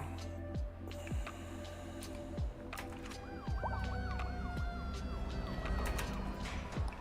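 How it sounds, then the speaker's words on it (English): A fire engine siren wails in a firefighting video game, its rising and falling tones sweeping over a steady engine rumble with passing horn-like blasts. "Fire engine is now dispatched."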